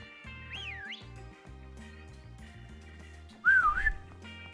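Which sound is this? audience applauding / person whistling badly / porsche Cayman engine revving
person whistling badly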